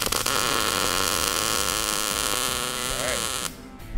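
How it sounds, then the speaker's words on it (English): Tack welding with a Miller welder: a loud, steady electric buzz lasting about three and a half seconds before cutting off abruptly. "Steve, just tack something"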